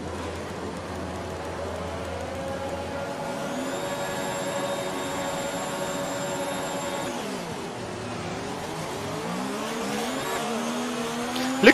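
Formula 1 race cars launching off the start in a video game, a dense roar of engines with rising and falling pitched whines as the pack accelerates, sustained and loud throughout.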